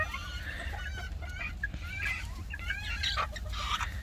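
Chicks and chickens in a cage cluck and peep continuously nearby, with a busy mix of short chirps and clucks layered over a low, steady background hum.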